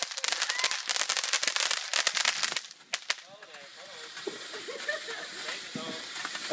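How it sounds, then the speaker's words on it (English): Sparklers and fireworks go off close by, with dense crackling and sharp pops for about three seconds, then quieter sizzling with people talking and exclaiming over it. "everyone likes sparklers"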